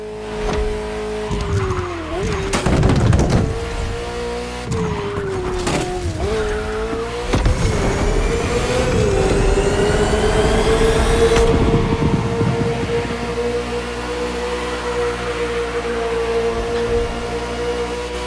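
Ferrari F40 tearing around a track in The Crew Motorfest, its engine note rising and dipping through gear changes with bursts of tire squeal and skidding, loud and close, settling into a steady high-revving drone.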